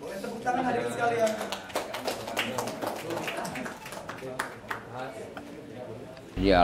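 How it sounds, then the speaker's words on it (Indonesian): Audience clapping at the opening ceremony of a MyPOS agent at Pondok Al-Wafi Boarding School in Pengasinan, irregular close claps mixed with a person talking, ending in a louder thump. "Boleh tepuk tangan hadirin sekalian."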